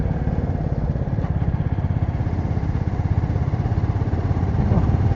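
Motorcycle engine running steadily while riding along a smooth road in India between Jharkhand and Varanasi, a constant close low rumble with rhythmic pulsing throughout, no talk.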